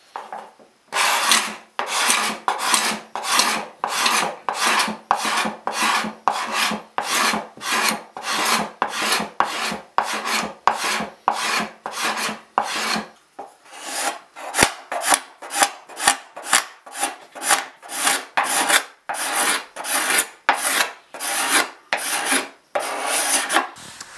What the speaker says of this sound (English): I think it's time to break out a nice sharp card scraper and get this all cleaned down